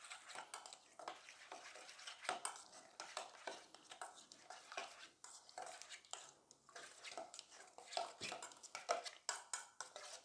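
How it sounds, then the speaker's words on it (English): Yogurt, lemon juice and spices stirred together in a pot for a chicken wing marinade, giving soft, repeated wet scraping and clinking close by, with no talking. "Mix it all together, all the spices with yogurt and lemon juice."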